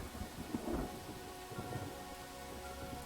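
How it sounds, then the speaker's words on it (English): Steady rain with a low rumble of thunder in a fantasy role-playing video game, a continuous, fairly faint wash of noise with no talk over it. "I love the sound of rain and thunder."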